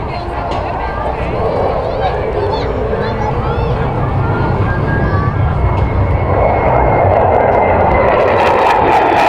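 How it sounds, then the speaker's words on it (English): An F-35 fighter jet at the Great Texas Air Shows 2024 makes a loud, continuous roar that swells as it flies past in slow, low-speed level flight, with an announcer speaking over it. "The power of the F-35 can provide enough thrust to maintain the aircraft in level flight at very low airspeed."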